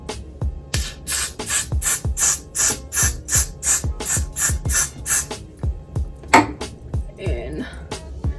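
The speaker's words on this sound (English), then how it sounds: "I'm gonna spray," Rapid, evenly spaced hisses of a spray bottle misting product onto a lace wig, about a dozen quick pumps in a row, followed by a short rustle and a softer spray.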